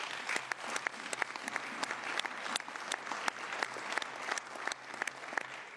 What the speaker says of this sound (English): And thank you for the applause